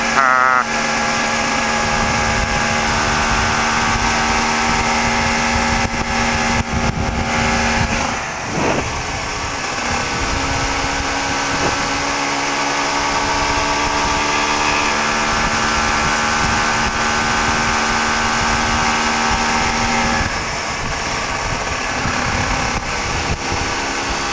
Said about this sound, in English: Moped.